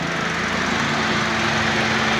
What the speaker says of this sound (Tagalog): nag-automatic na siya, nasa 90 degrees. Tingnan natin yung motor